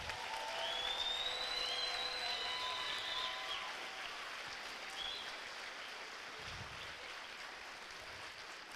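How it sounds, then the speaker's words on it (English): Crowd at a fifth grade promotion ceremony gives the students another round of applause, a steady distant roar of clapping that slowly fades, with a faint whistle-like tone near the start. "How about another round of applause for all of our students?"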